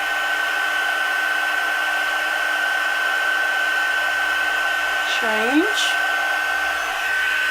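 A heat embossing tool blows hot air onto a stamped card, making a loud, steady close-up whir that runs the whole time, with one short spoken word partway through.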